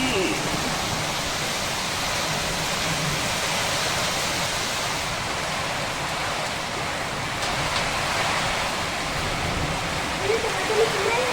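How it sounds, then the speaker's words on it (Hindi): Heavy rain pours down in a steady, dense roar, with strong wind pushing through during a violent storm over a farm, loud and continuous for the whole stretch. "पूरी सफेद बारिश, इतनी तेज हवा भी चल रही"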